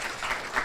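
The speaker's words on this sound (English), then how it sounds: "So I think one round of applause for all the kids who are here." Applause for children at a sports-for-development gathering, a brief burst of steady clapping from the audience.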